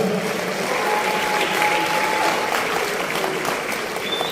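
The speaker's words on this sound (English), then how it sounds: "Please clap for him very well" Audience applauding a dignitary at a Brazil independence bicentenary celebration, an even, sustained wash of clapping from a large gathering with faint tonal background sounds beneath it.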